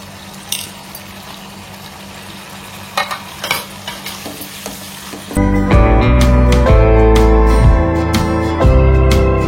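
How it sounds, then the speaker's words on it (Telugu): Paneer curry cooks in a pan, with a few scattered clinks and scrapes at first. It then gives way to a loud, steady bubbling sizzle close by, without speech. "ఇది ఉడుకుతా ఉంది"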